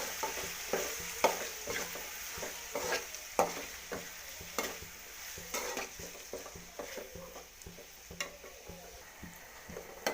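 Salted tomatoes cooking in a pan with a soft, steady sizzle, broken by a series of distinct spoon scrapes and taps against the pan at uneven intervals, close but fairly quiet.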